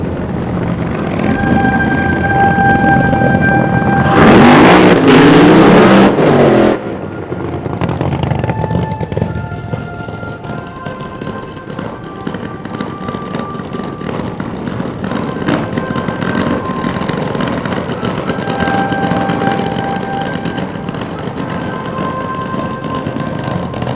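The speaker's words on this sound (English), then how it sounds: "John Spuffard, a fine burnout from him" Drag racing car doing a burnout at Santa Pod Raceway during the 1990 Mayday Springnationals, a loud roaring burst of a few seconds, then a lower engine drone and other vehicles running in the background.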